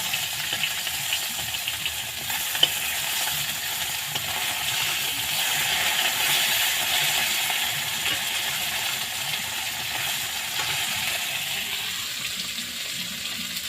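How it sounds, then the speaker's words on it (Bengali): Small carp fish sizzle and crackle steadily in hot oil in a pan, a continuous close frying hiss with no voices. "তো দেখো চারাপোনা মাছটা আমি ভেজে নিচ্ছি"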